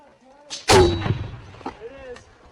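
A single loud gunshot fired on command during a live-fire exercise, close and sharp with a decaying rumble, followed by faint voices and further shouting.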